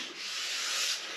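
Diamond stone rubs along a ski edge with a soft, steady, gritty rasp over about a second, close and fairly quiet.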